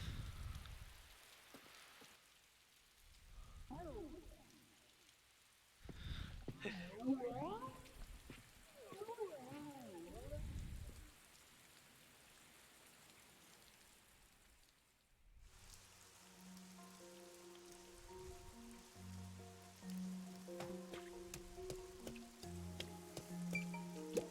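Rain falls in a huge city in the video game Master Detective Archives: Rain Code, a soft continuous patter beneath voices in the first half, then under tonal game music later.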